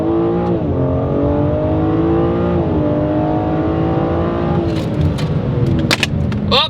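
A 2025 BMW M3 accelerates hard out of a corner on track, its engine roaring loud and close with rising, shifting pitch and a few sharp pops near the end.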